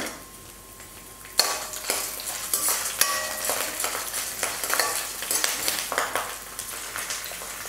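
Lentils and peeled garlic cloves frying in a pan. A constant crackling sizzle starts suddenly and runs throughout, with repeated scraping and clinking strokes from stirring.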